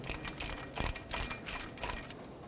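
A ratchet snugs down the starter bolts on a 2006-2010 Hyundai Sonata 2.4L four-cylinder, a series of quiet, close clicking bursts in short irregular strokes.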